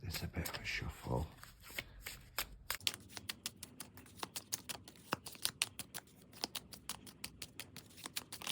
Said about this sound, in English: give this a bit of a shuffle.